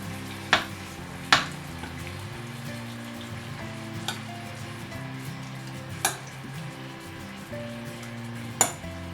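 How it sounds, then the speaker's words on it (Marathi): Prawns fry in a pot for biryani, giving a constant mid-level sizzle with several sharp clanks of a spoon or spatula against the metal at irregular intervals. "हे जे प्रॉन्स आहेत हे मी आता असे सगळे टाकून घेतले त्याच्यामध्ये आपण आता ते थोडे फ्राय करून घेऊया आधी"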